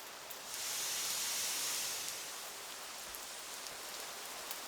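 Steady autumn rain hisses softly and continuously, swelling slightly early on, with no voices or other sounds.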